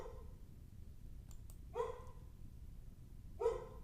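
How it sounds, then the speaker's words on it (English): Indoor dog barking, two separate sharp barks about a second and a half apart, heard at a moderate distance against a quiet room background. "Sorry about the dog."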